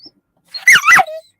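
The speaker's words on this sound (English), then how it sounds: "She chirps. My dog chirps." A small dog gives a short, close, high-pitched chirping whimper, a rising and falling squeaky yelp lasting under a second in otherwise quiet surroundings.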